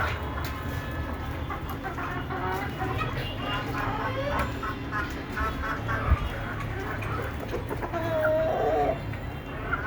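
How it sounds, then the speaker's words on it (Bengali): Broody desi hens kept together in a pen cluck steadily and softly in a close group, with occasional louder calls, while a person talks over them. "এগুলো সবগুলো কোষা মুরগি, কোষা ভাঙানোর জন্য একসাথে রাখছি"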